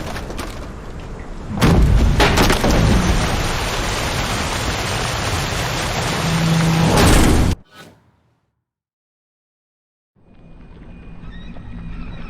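Storm at sea with rain and thunder in The Witcher 3: a loud, dense roar of rain and wind that swells and holds, breaks off abruptly into near silence, then returns more softly.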